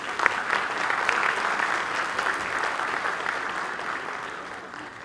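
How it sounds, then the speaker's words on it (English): A large audience at a Global HR Congress gives a warm, sustained round of applause for distinguished guests. The dense clapping swells early and then tapers gradually over about five seconds. "Can we have a huge round of applause for all our distinguished and illustrious guests?"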